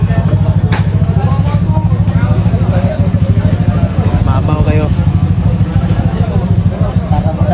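A motorcycle engine runs with a steady, loud, throbbing idle at a rider gathering, with a busy crowd and people talking over it throughout.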